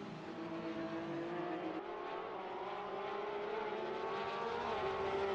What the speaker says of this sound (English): Just watching the car streaming past the pit exit